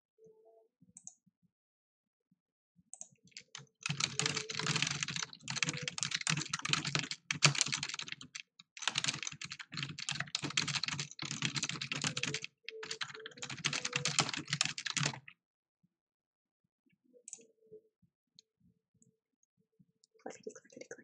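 Loud, rapid clacking from a computer keyboard being typed on heavily, sustained in bursts for about eleven seconds with a short pause midway, close and prominent, with quiet sounds before and after.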